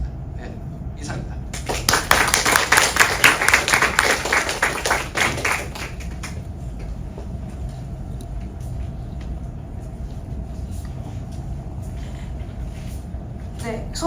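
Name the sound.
audience applause after a lecture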